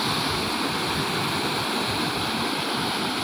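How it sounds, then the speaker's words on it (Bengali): Floodwater released from Jharkhand rushing loudly in a steady, dense roar of churning water, constant and close with no voices. "বাস্তবে এই যে দেখে নেন আপনাদের সামনে জলের কি তাণ্ডব"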